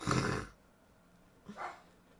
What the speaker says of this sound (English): She's part Dachshund and part American Miniature Shepherd, and she just wants to let everyone know she rules the roost.